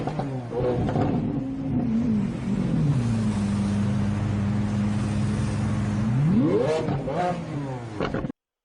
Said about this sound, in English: revving while still standing, and the exhaust is getting super,